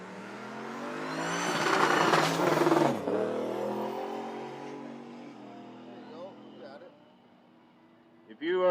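Chevrolet Silverado making a no-prep drag racing pass at Toronto Motorsports Park, a loud engine rising in revs through several gear changes, then fading into the distance, with a public-address announcer talking throughout.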